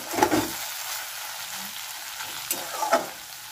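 Taro stolons (kochur loti) fry in a covered pan with a steady low sizzle. A few sharper clatters come as the pieces are turned, and no one speaks.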